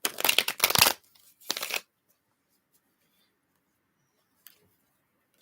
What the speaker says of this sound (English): We're almost through shuffling.